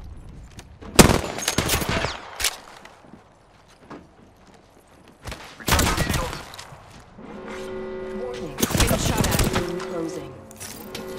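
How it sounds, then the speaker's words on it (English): Gunfire in the Apex Legends video game comes in several sharp, loud bursts of rapid shots separated by quieter gaps, with game voice lines and other effects between them. "Opening fire. Getting shot at."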